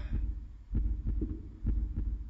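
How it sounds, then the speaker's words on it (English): Heartbeat sound effect in the horror video game Maere When Lights Die: deep, muffled thumps in paired beats repeating at a steady, slow rhythm, close and fairly loud with no talk over them. "is that my heartbeat?"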